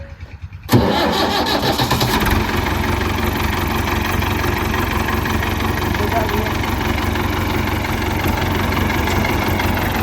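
A brand-new New Holland 640 75 hp tractor engine cranks on its self starter and catches, settling into a loud, steady close-up idle that runs on alone after the start.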